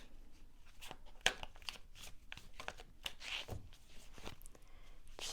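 Tarot cards are shuffled by hand during a reading, soft crisp riffles and slides of card stock in short irregular bursts, faint and close with no talking.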